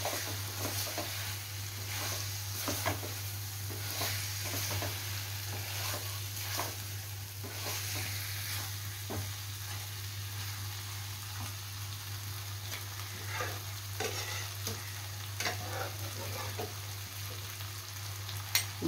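Potatoes frying with spices in a pan for a dahi aloo curry: a steady, close sizzle with scattered scraping and stirring clatter, heard alone throughout.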